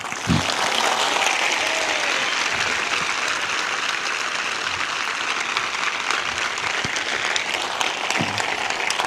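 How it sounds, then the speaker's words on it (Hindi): A congregation at a Christian gathering applauds for the Lord in a long, steady, dense round of clapping that fills the room without a break. "आप प्रभु के लिए इससे अच्छी ताली बजा सकते हैं।"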